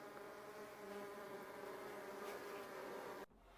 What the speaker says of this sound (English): Show you the bees